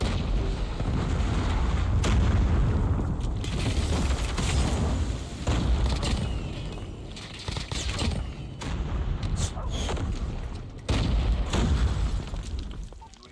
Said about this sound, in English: Hostile missiles inbound.